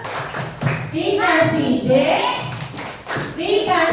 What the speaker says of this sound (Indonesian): Oke, tepuk tangan dulu dong untuk kelompok 4.